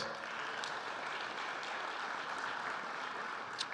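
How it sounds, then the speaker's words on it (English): Applause for sponsors at a men's empowerment summit, a steady, even wash of clapping from a large indoor audience, moderately loud and continuous with no talk. "you can give them a great big round of applause"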